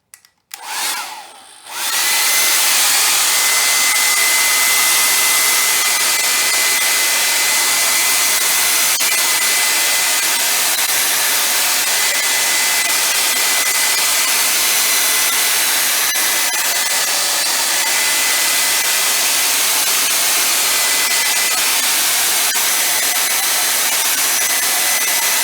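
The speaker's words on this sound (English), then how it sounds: "Maybe I will use my hair dryer. It'll make a lot of noise, but please bear with me." A hair dryer blows hot air over wet watercolor washes, starting with a brief sputter and then running as a loud, steady whirring roar that holds without pause.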